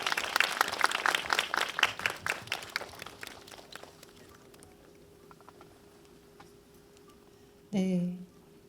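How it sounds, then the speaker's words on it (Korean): A theatre audience gives warm, dense applause as an actress is welcomed on stage at a film talk event. The clapping fades out over several seconds into near quiet, and a brief louder burst follows at the end. "큰 박수로 환영해 주세요"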